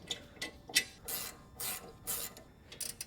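A ratchet tightens the front brake caliper bolts on a supercharged 2003 BMW E39 540i M Sport, giving several quick, close, bright clicking bursts in an uneven rhythm.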